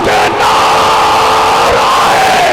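A large crowd at a religious gathering shouts a slogan together, a loud, sustained massed roar that holds steady the whole time.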